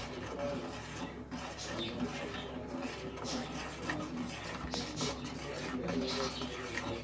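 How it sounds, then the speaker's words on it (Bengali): Rice paste for a ripe mango dessert is stirred in a pot, with continuous close scraping and rubbing strokes from the spoon against the pan, some quiet clatter mixed in. "দেখো প্রতিনিয়ত আমি নাড়ছি যাতে দলা না পাকিয়ে যায়।"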